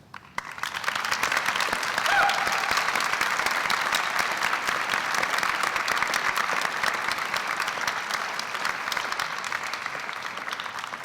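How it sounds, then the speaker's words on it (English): High-school graduates at a 2023 commencement ceremony stand and applaud their families, a loud, sustained wall of clapping from a large crowd that swells quickly and holds steady throughout, with no speech over it. "Graduates, would you please stand and give a rousing applause to your family?"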